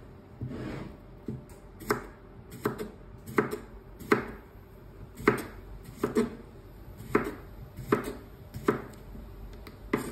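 Knife chopping food on a board while cooking a Thai dish, a quick series of about fifteen close, sharp thuds in a fairly steady rhythm with brief pauses, and no talking.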